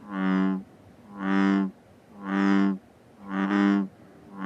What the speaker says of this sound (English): That is the sound of frogs.